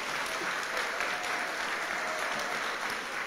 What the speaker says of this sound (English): How about a big round of applause to Greg?